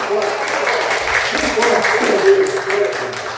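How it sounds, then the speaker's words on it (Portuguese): A church congregation at a Portuguese-language service applauding, a loud sustained wash of many hands clapping together, with a voice briefly audible over it. "Vamos aplaudir a palavra de Deus?"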